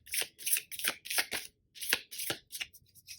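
Tarot cards are pulled from a deck and snapped down in quick crisp bursts, about ten papery flicks with short gaps, close and fairly quiet.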